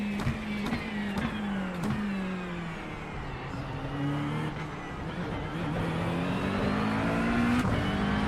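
A GT3 race car engine in the iRacing sim climbs through the revs at Monza, sweeping pitch rises repeated with gear changes, steady and close, with no talk.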